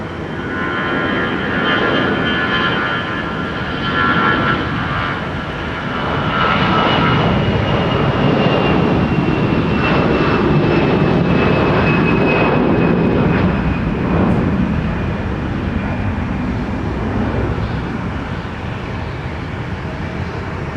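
A 32-year-old Delta jet takes off from runway 30 left at Minneapolis–St. Paul, a loud, steady engine roar holding for about twenty seconds with a rising whine as it climbs away.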